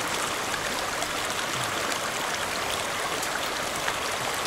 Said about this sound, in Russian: Чистая горная река.